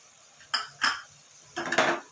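Bitter gourd being stirred with coriander and chili powder in a pan: three short scraping clinks of a metal spoon against the cookware, close and clear, the last one longer, with no voices.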